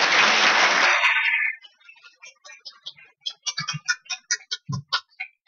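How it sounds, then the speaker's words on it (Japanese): Loud audience applause at a local community talk event in Kumano, Japan, a dense burst of clapping that fades after about a second and a half into scattered, separate claps from a few people. "もう一度大きな拍手をお願いしたいと思います"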